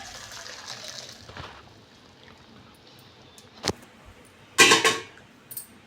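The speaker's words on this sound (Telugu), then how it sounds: "ఇలా సింక్లో పెట్టుకొని చల్ల నీళ్ళు ఇలా పోసుకోవాలండి" Cold water poured from a tap over drained Maggi noodles in a kitchen sink, a brief loud gushing splash near the end after quiet background.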